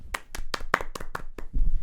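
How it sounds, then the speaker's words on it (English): A single person claps their hands about seven times in a steady rhythm, each clap sharp and close. A low rumble follows the claps at the end. "Wow, he clapped himself there, guys."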